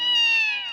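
A pet cat gives one clear, drawn-out meow, loud and close, with a bright tonal wail that fades slightly at the end and no voices over it.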